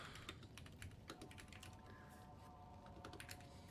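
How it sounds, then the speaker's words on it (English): Very quiet clicking of a computer keyboard in a steady patter of keystrokes, faint and somewhat distant beneath a low background hum, with no talking. "I'm trying to go around the mic as I'm typing"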